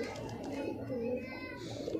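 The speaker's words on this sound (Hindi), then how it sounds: "लाल गंडेदार कबूतर हैं ये ये देख सकते हैं आप" Soft, throaty coos of red barred pigeons in Tonk roll through the clip, close by, with murmuring voices in the background.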